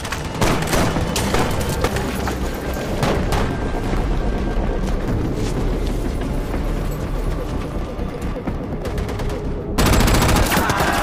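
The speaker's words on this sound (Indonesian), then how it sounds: "tembakan perlindungan." Dense gunfire and machine gun bursts from a war film battle scene, a loud, continuous barrage of rapid shots with booming impacts that swells louder near the end.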